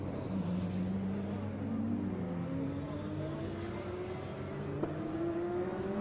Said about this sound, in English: Audi number 12 turning its way out of the hairpin at La Source